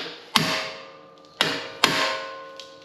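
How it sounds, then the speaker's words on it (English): Three hard metallic hammer strikes on an impact screwdriver loosening brake screws on a Hyundai Tucson, each ringing briefly before fading, spaced about a second apart, close and loud. "this is going to allow us to just use a hammer here"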